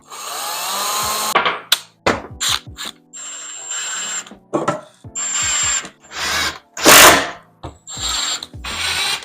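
A power drill drives framing screws into a wooden frame for a window bench built from an IKEA cabinet, in repeated bursts of whirring and ratcheting, some short and some longer, with brief pauses between and no talking.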